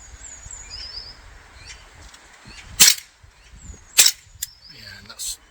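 An ASG CZ75 gas BB pistol fires about four sharp, crisp pops spread over a few seconds, with quieter faint clicks between them, and birds chirp in the outdoor background.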